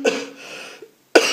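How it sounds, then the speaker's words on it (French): A person with a suspected bronchitis lets out a harsh cough, a sharp burst that rasps and fades, a short silence, then a second abrupt cough, close and loud with no talk around it. "Je vais tousser avant."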